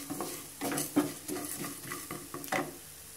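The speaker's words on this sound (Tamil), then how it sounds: "மிளகு, சோம்பு போட்டுக்கோங்க. மூணையும் போட்டு நல்லா கொஞ்சம் வறுத்துக்கோங்க" Pepper, fennel and cumin seeds dry-roasting in a pan for a bone kuzhambu, with a spoon scraping and stirring in repeated close strokes over a soft crackle, no talk.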